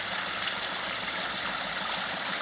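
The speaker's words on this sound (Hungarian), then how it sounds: "Adjál rá még vizet, hagyd lássam mekkora a teljes nyomása!" Water rushes from the Olimpia fountain as it is run at full pressure during a pressure test, a dense, steady, loud spraying roar that holds without a break.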